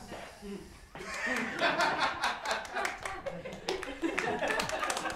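A live comedy audience claps quickly and in scattered bursts, mixed with chuckles and laughter, a few seconds of lively room noise after a quiet start.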